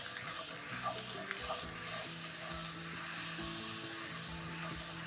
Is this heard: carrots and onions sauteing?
yes